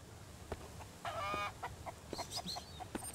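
Chickens clucking in the survival video game Mist Survival, a series of short, moderately faint clucks and squawks coming in quick irregular bursts over quiet ambient game noise.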